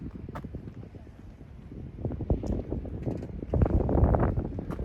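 Blustery wind buffets the microphone in uneven gusts, building louder toward the end with low rumbling bursts.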